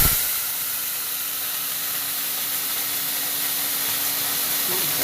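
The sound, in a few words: spices sizzling in hot oil with fried eggs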